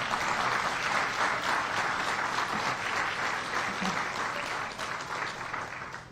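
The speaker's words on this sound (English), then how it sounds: "You can clap for that." Audience at a Chicago city officials' update on the recovery plan breaks into sustained clapping, dense and loud throughout, tapering slightly near the end.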